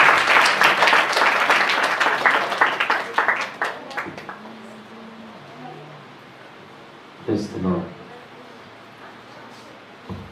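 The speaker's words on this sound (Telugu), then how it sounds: "సేవకులు లేచి నిలబడి వాక్యాన్ని అందుకుంటుండగా అందరూ చప్పట్లు కొడుచు ఆహ్వానిద్దాం" A church congregation at a temple anniversary service claps to welcome a preacher. The crowd applause is loud and dense, then thins out and fades after a few seconds, leaving quiet room tone and a brief faint voice.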